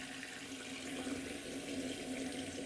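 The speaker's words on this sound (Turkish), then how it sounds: "Fırçalarını yıkar mısın?" Makeup brushes are washed under a running tap, a steady close rush of water into a sink with no break and no speech.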